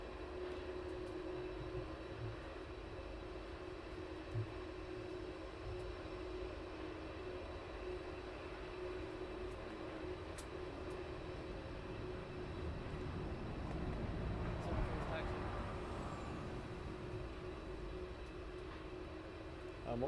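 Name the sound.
aircraft at East Midlands Airport at night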